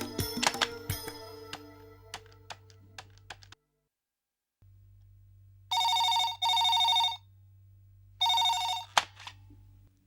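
A telephone in a Tamil TV serial rings in three loud electronic bursts, two close together then one after a pause, following keyboard-like clicks and a low hum.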